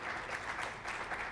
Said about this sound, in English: giving Isabel Aroca and the amazing members of the IMIA team a great round of applause